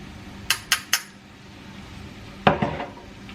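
Spices being stirred in a pan for Kerala fish pickle: three quick metal clinks of a spoon against the pan, a quiet pause, then a louder scraping clatter, close by.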